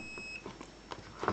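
A short, thin electronic beep from a continuity tester on a Vaillant gas boiler's heating switch cuts off quickly, followed by faint clicks and handling sounds close by.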